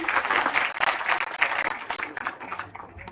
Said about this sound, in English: Give a huge round of applause to Professor Jayaprakash, sir.